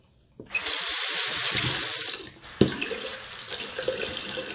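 Tap water runs steadily into a sink to wet a two-blade disposable razor, a continuous splashing rush that cuts briefly and then resumes with rinsing splashes, close and alone.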